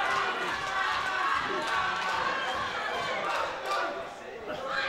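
Latvian fans in the crowd at the Doncaster Dome cheer during a Caged Steel 21 MMA bout, a broad steady roar of the arena throughout, with a commentator talking over it.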